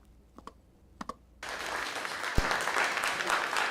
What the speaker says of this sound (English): Thunderous applause filled the Decatur City Council chambers